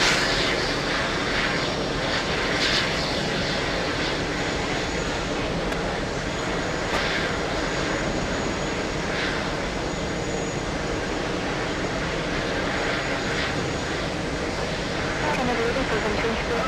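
Jet airliner engines at JFK airport make a broad, continuous roar at moderate distance, steady throughout, with faint voices in the background.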